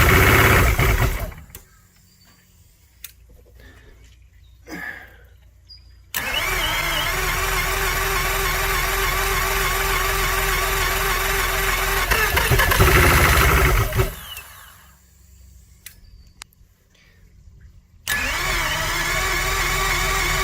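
An outboard engine on a 1991 Crestliner ProAm boat cranks a couple of times, then fires and settles into a loud, steady running drone, briefly drops out, and restarts to run again.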